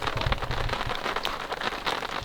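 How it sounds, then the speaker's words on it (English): Rain patters steadily on a tent at a campsite in Boulder, Colorado, a dense, close hiss of drops with no talking. "It's raining a little bit. Okay, buddy, it's just rain."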